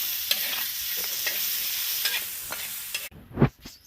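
Cowpea vegetable fries with spices and salt in a pan, giving a steady sizzle broken by soft scraping stirs, then a brief louder clatter near the end.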